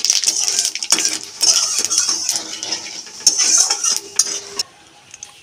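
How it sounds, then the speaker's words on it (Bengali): Whole cumin seeds and bay leaves tempering in hot oil for a Bengali rui fish curry, heard as a close, continuous bright sizzle with metallic clinks of a utensil against the pan, easing off near the end. "গরম তেলের মধ্যে ফোড়ন দিয়ে দেবো গোটা জিরে, তেজপাতা। ভেজে নেব ফোড়নটা।"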